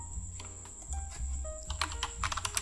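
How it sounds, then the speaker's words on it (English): A player name is typed on a computer keyboard in quick, irregular keystrokes, quiet and close, with no speech. "First one is you can type player name."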